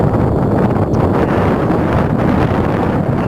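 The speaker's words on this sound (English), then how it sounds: "the audio's not too bad on this, it's quite windy." Loud, constant wind buffeting a microphone in a valley car park, a dense low rumble with rustling gusts throughout and no voices.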